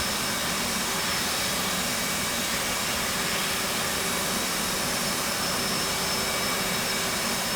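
The simulated F/A-18 jet engine in DCS World runs at a steady, dense roar with a high whine on top, loud and unbroken throughout.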